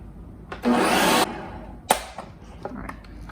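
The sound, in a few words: blender blending a sauce for a tomato sandwich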